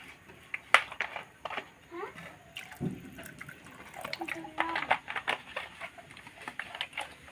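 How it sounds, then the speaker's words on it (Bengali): Water pours from a tap into a cooking pot to boil five packs of Maggi noodles with egg, splashing and trickling steadily under a voice talking nearby. "আমি জল দিয়ে দিচ্ছি, আমি 5টা ম্যাগি দিয়ে করব, এতটা পরিমাণে জল দিয়েছি।"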